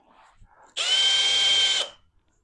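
Power drill deburring a freshly drilled hole in a short, loud, steady whine of about one second that starts abruptly and winds down, with faint handling noise before it.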